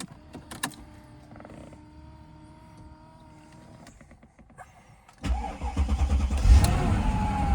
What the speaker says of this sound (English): All right, this is gonna be a cold start.